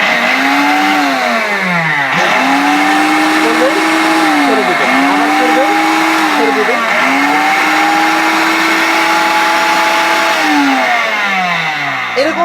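A Niyama professional blender runs in pulse mode, its loud motor whine surging up and dropping back in about four repeated bursts, close and continuous across the whole stretch.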